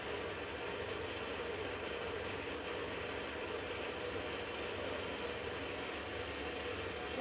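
A Zojirushi bread maker mixes banana bread dough with ripe bananas, giving off a steady mechanical whir and churning hum from its motor and paddle that runs evenly at close range with no talking.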